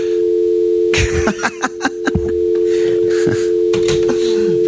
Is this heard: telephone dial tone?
yes